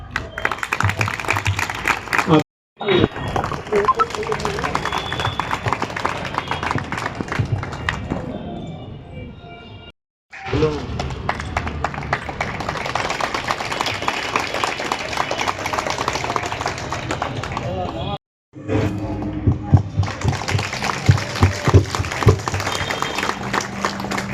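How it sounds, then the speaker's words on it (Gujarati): An audience claps steadily and loudly at a Women's Day award distribution ceremony held at a hostel, the dense applause running in three long stretches broken by brief silent gaps. "તાળીઓથી વધાવવામાં આવે ચૌહાણ નેહલબેન"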